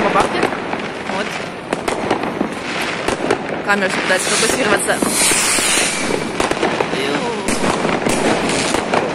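New Year's Eve fireworks and firecrackers in a German city center burst nonstop in dense crackling volleys with sharp pops, loud and close, while someone talks over them.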